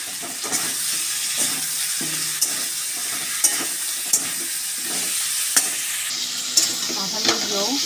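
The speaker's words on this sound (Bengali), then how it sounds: "মাথাগুলো কষিয়ে নিয়েছি ভালো করে" Katla fish heads frying in a spice masala, with a steady close sizzle throughout and sharp clicks of a spatula stirring the pan at irregular intervals.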